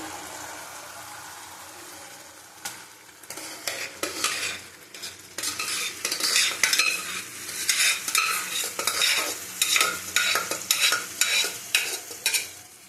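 Lentils with tomato stirred in a hot pan: a soft sizzle under repeated scraping spoon strokes against the metal, growing busier and rhythmic, near and with no talking.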